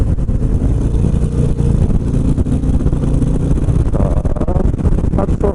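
A Harley-Davidson CVO Street Glide motorcycle pulls away slowly in third gear from around 2000 rpm, a loud, deep, continuous engine rumble with wind noise, its pitch rising slightly near the end.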